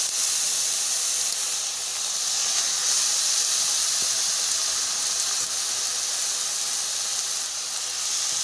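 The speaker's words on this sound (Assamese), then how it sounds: "এই চিকেনখিনি এনেকৈ শুকানকৈ ভাজি লওঁ। আৰু ইয়াত তেল নাই দিয়া" Chicken pieces dry-frying in a pan without oil while being prepared for a boiled chicken dish, giving a steady, bright hiss and sizzle that continues evenly throughout with no talk.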